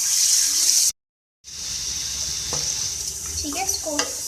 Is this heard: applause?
no